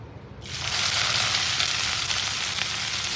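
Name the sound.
chopped onions frying in oil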